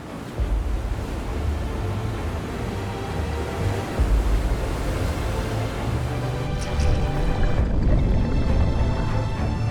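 Heavy ocean surf churns and crashes during Hurricane Teddy off Nova Scotia, a dense, continuous roar with swells building louder around four seconds and again near seven, no voices present.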